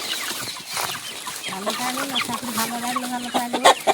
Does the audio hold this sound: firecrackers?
no